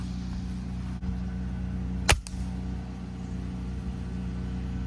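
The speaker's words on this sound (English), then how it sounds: "sorry for the noise. Somebody's mowing the field next to us," Steady low engine drone of a mower running in a nearby field, continuous throughout, with a brief sharp click midway.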